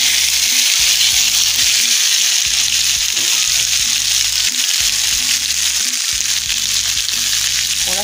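Meat for tacos al pastor browns in hot oil in a pan, giving a loud, steady sizzle and crackle throughout, with low clinks and stirring knocks beneath.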